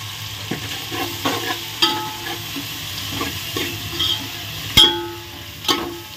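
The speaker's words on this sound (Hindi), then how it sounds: "अब इसको सौते करेंगे।" Shredded cabbage sautés in a pan with salt and turmeric powder, a soft continuous sizzle punctuated by rhythmic scrapes and taps of a spoon stirring close by.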